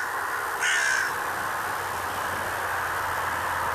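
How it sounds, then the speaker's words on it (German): At a snowy winter bird-feeding site, one crow gives a single short caw early on against a steady hiss of background noise, with no voices. "allein die Geräuschkulisse manchmal hat verraten, wie viele Vögel in der Nähe sind"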